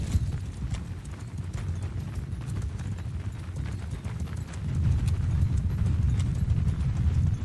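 Many cavalry horses gallop together in Mount and Blade: Bannerlord, a rumbling, continuous drum of hoofbeats that grows louder partway through, with an occasional whinny.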